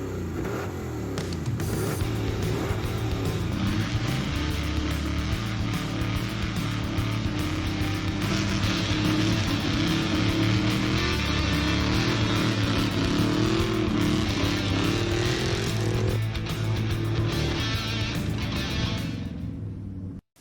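A loud 1970 Chevrolet Chevelle V8 runs steadily up close, its deep rumbling exhaust holding a throaty idle with slight revving throughout before cutting off at the very end.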